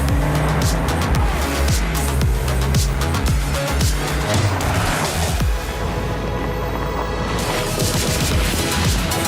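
Civic Cup race cars pull out onto the Donington Park circuit, several engines revving hard and passing close with loud, continuous roar and brief tire squeal throughout.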